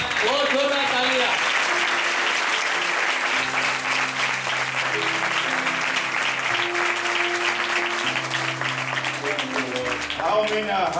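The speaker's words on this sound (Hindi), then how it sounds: "बहुत जोरदार तालियां" Loud, sustained applause fills a church meeting in India, many hands clapping steadily for several seconds over held music tones, with voices surfacing at the end.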